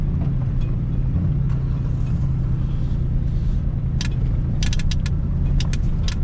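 A truck driving through a scrap yard with its engine acting up, a steady low rumble under rattling and short metallic clanks near the end.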